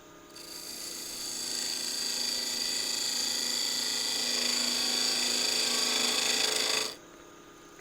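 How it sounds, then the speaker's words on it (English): A 3/8 inch detail gouge cuts a spinning wooden mortar on a lathe, a steady, loud scraping hiss lasting about seven seconds and then stopping. "I'm going to use a 3/8 inch detail gouge."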